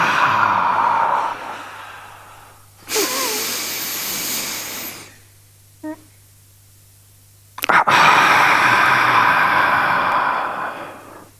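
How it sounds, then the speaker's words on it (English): Forceful yoga breathing exercise, double breaths with tension: loud hissing exhalations and sharp inhalations in several long bursts, separated by a short quiet gap. "Double breathing with tension."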